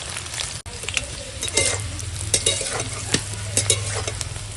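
Oil sizzles steadily as cauliflower fries, with occasional clinks and scrapes of stirring over a constant crackling hiss.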